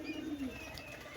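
Pigeons coo softly nearby in a short, low, throaty burst, then fade into quiet background.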